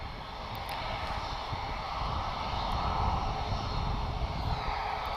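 An Airbus A321 long-range airliner inbound from New York gives off a steady, moderately distant jet roar that swells slightly as it approaches, with no voices over it.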